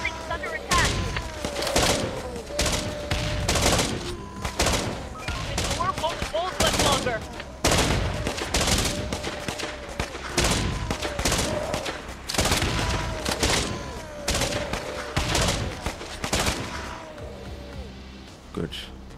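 Gunfire crackles through a survival strategy game's zombie defense, repeated bursts and single shots spread across the whole stretch, loud and busy, with someone talking over much of it.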